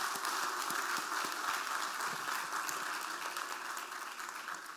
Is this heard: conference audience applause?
yes